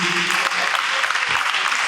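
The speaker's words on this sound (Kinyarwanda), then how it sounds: "Amashyi menshi cyane" A wedding congregation applauds inside the Christian Life Assembly church in Kigali, giving dense, steady clapping that fills the short moment at an even level, with voices mixed underneath.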